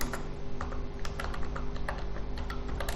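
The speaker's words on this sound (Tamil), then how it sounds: "கொஞ்சம் எக்ஸாம்பிளுக்காக நான் டைப் பண்ணி காட்டுறேன்" Fingers type on a computer keyboard, producing quick, irregular bursts of crisp key clicks close by over a faint steady hum, with no voices.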